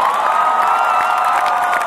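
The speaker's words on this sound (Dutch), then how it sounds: "Jongens, maak een groot applaus." An audience at a crowded public event breaks into loud, sustained cheering and applause, with children shouting and whooping in a dense, continuous roar.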